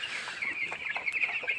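A shed of about 500 eleven-day-old broiler chicks on a poultry farm keeps up a dense, steady chorus of high chirps and peeps, close by and continuous, with no talking.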